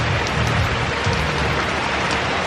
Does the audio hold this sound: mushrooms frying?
no